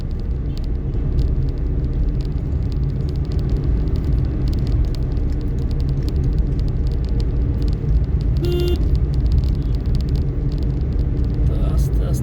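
A car drives slowly along a busy city road in Rajarhat, Kolkata, with a steady engine and tyre rumble and traffic noise throughout, and someone talking over it.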